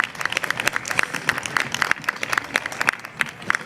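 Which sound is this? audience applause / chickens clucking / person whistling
audience applause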